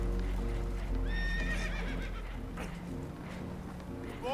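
Horses in Red Dead Redemption II neigh and whinny in repeated rising-falling cries over a loud, rumbling background of rushing water and a damaged boat, with clip-clop and shuffling noises mixed in.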